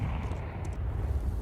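A grenade goes off in Counter-Strike during a pro IEM Cologne match, a short, muffled low rumble with a brief burst that fades quickly within a second and a half.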